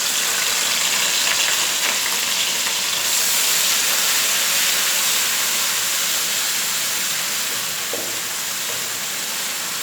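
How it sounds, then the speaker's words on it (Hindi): Chopped onions hit hot oil in a pan for masala moong daal, giving a loud, steady sizzle and hiss that holds throughout with no talk. "अब हम इसमें प्याज डालते हैं।"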